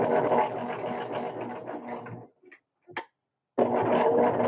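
A domestic sewing machine stitches fabric for quilting, a loud, dense mechanical whir that runs steadily, stops abruptly for a quiet gap broken by a couple of small clicks, then starts up again.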